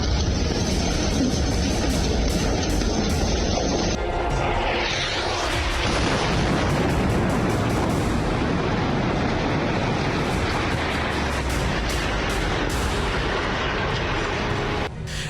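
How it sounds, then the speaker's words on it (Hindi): Israeli airstrikes on Beirut, Lebanon, as a loud, continuous roar of blasts and rumbling booms that fills the whole stretch, with dense low-end thunder throughout and no voices. "आईडीएफ ने बैरूत में 48 घंटे के अंदर आसमान से इतना बारूद बरसाया कि पूरा इलाका धुआं धुआं हो गया।"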